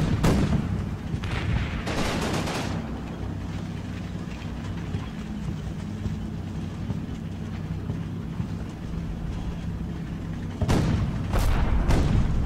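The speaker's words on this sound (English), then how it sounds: "So the tanks do fire some HE into the general direction of the Germans" Tanks in the wargame Combat Mission firing high-explosive rounds toward German positions, loud booming blasts at the start and again near the end, with a low rumbling battle din running in between.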